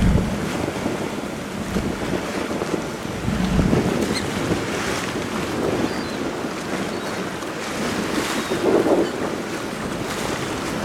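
Luxury yacht cruising on the Bosphorus, with steady wind rush across the microphone and continuous water and wave wash against the hull, loud and unbroken throughout.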